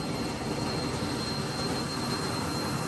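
Air New Zealand airliner jet engines droning at an airport in Microsoft Flight Simulator 2024, a steady, dense roar with a thin high whine, constant and unbroken.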